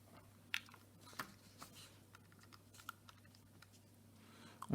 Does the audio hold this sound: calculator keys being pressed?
yes